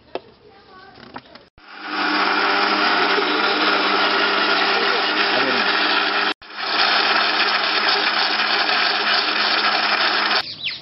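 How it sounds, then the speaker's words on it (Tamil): A kitchen mixer grinder whirs loudly and steadily as it grinds herbs for hair oil, running in two long bursts with a brief stop between. "இப்போது மிக்சியில் திறந்து அரைக்கும் போது உங்களுக்கு தெரியணுன்றதுனால தான் அரைச்சேன்"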